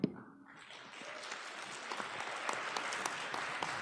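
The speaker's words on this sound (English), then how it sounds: "so some polite applause there for that response" Polite audience applause at a candidate forum on a local morning show: a steady patter of many hands clapping that builds after a sharp opening clap and carries on evenly, moderately loud, with no talk over it.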